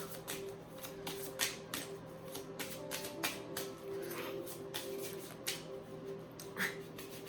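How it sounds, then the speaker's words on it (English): Tarot cards are shuffled by hand in a quiet room, a run of soft rapid riffling bursts repeating in an irregular rhythm, close and faint with no talking. "Put those back and shuffle."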